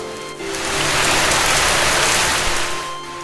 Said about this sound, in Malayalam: അപ്പുറത്തെ പറമ്പിൽ നിന്നും അങ്ങോട്ട് നീണ്ടു നിൽക്കുന്ന മാവിന്റെ ഇലകളിൽ മഴ പെയ്ത് നനയുന്നതും നോക്കി നിന്നു